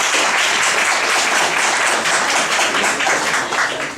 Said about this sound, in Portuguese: Uma salva de palmas para você.